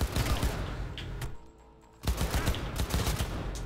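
Rapid automatic gunfire in Cyberpunk 2077, loud and close, firing in dense bursts that break off for about half a second before resuming.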